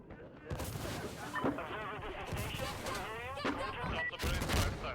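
Sustained gunfire and booming artillery blasts in the video game Insurgency Sandstorm, dense rapid bursts layered with heavy impacts, loud and continuous, with voices calling out in the background.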